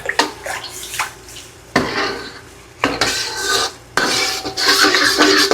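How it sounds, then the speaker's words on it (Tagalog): Water is poured into a pan of tomato, sugar and fermented black bean sauce for fried milkfish with tofu, then stirred, giving splashing pours and scraping utensil clatter against the pan, close and loud. "Lagyan po ng 3/4 cup na tubig."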